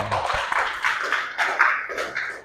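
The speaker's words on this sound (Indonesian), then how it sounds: "Tepuk tangan buat Selin" Classmates applaud a student named Selin in a classroom, a short burst of moderately loud clapping that swells and fades unevenly over a couple of seconds.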